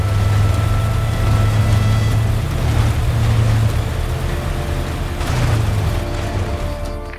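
Off-roader vehicle driving in the video game Just Cause 3, a steady loud low engine drone with rumbling rises and dips throughout, no talk.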